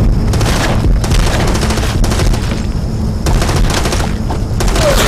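Dense bursts of assault rifle fire crack and boom loudly and continuously through a video game clan match, with overlapping shots from several directions and no pauses.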